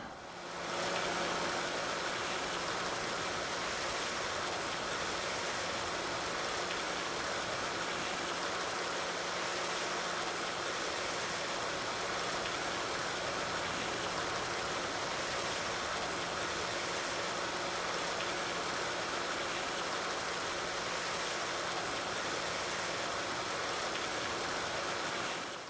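A pressure washer sprays down a tractor in the video game Farming Simulator 19, a constant rushing hiss of water over a low engine hum that holds steady for the whole stretch, with no talking.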